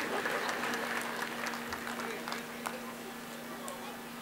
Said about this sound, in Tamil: அத்தனை டீச்சர்ஸுக்கும் கைத்தட்டுங்க.